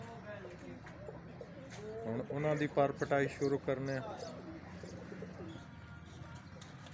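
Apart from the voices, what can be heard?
pigeons cooing in a loft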